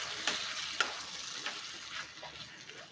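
Sabudana khichdi is mixed gently in a pan over a medium flame, giving a soft sizzle with a few light spoon scrapes and taps, fairly quiet and close.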